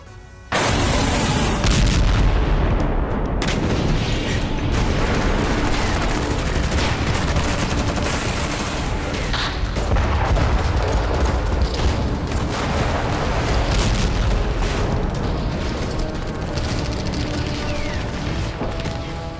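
War footage from the Donetsk front of the Russia–Ukraine war, with dense artillery fire and explosions booming continuously at high loudness, heavy rumbling blasts and crashes overlapping throughout.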